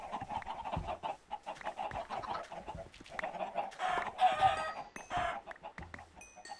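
Chickens cluck and squawk in a video game, a busy flock of short, repeated calls that rise in a noisy cluster near the end.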